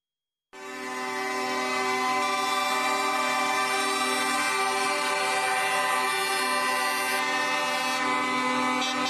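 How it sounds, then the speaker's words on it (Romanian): Drivers at a protest hold down their vehicle horns continuously, producing a loud, sustained, unbroken blare of overlapping tones that runs for the whole stretch without pause. "Șoferii au claxonat continuu în speranța că așa vor fi auziți de autorități."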